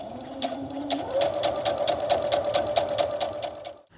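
A sewing machine stitching a seam on camper window covers, a close, steady rapid whir with regular needle ticks that stops at the end.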